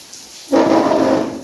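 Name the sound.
heavy rain with thunder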